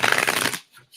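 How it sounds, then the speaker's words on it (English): Playing cards being riffle shuffled up close, a quick dense rippling flutter lasting about half a second before cutting off into near silence. "You riffle shuffle also,"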